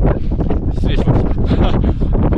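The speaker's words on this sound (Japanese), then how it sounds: "風はね、2メートルぐらい吹いてますが" Wind blowing across the summit of Takachiho-no-mine, a volcanic mountain peak, buffeting the microphone as a steady, loud, broadband roar that surges and eases in gusts throughout, with no voices.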